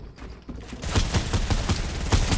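Rapid gunfire from Fortnite, a quick rhythmic volley of about a dozen sharp shots starting after a quiet moment and continuing steadily, loud and close.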